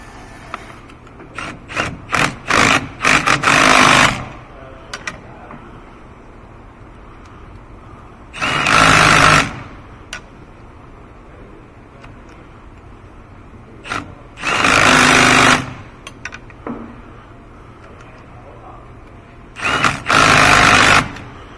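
A pneumatic impact gun tightens the driveshaft bolts on a 2006 Toyota Tundra, sounding in several loud, rattling bursts of one to three seconds separated by quieter shop background.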